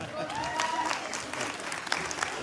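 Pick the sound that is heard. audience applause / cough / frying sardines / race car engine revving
audience applause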